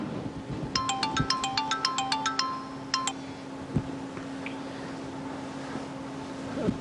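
A phone ringtone plays a fast run of bright electronic tones in bursts over about three seconds, then stops, leaving faint room noise and a steady low hum with a few soft knocks.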